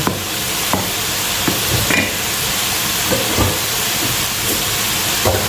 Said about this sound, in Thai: ใช้น้ำกะทิเคี่ยวให้แตกมัน